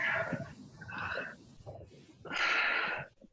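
Heavy, raspy breathing from someone in the final round of an online CrossFit-style workout, three strong wheezing breaths in an uneven rhythm, close and fairly quiet with no talk over them.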